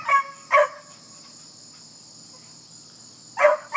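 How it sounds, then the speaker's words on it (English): A farm dog barks in short bursts, two quick barks near the start and another pair near the end, with quiet background and insect-like hum between. "He's a real good barker."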